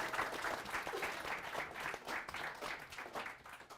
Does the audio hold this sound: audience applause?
yes